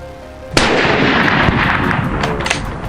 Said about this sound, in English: Just a few gunshots echoed through the trees